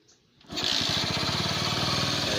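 A Kawasaki Bajaj CT100 motorcycle with a stalling, hard-starting engine fires on the first press after a short quiet lead-in, then settles into a steady, close, throbbing idle with rapid even pulses.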